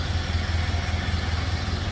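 A 1930 Ford Model A Roadster engine idles close by, a smooth, even low throb that pulses steadily and evenly with nothing else heard.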